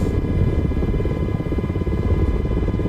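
An MH60 helicopter in a flight simulator game throttles up, a loud, steady rotor and engine drone with a constant whine running throughout, no voices.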